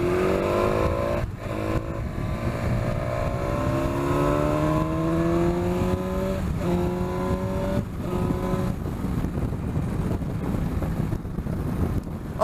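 A BMW S1000XR motorcycle accelerates hard on a road test ride, its engine pitch climbing through several gear changes under heavy wind rush at the microphone.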